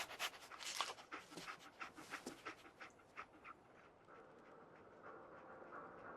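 Dogmeat, the dog companion in Fallout 4, pants in quick rhythmic huffs up close, the breaths thinning out after a few seconds into a low, steady background hiss.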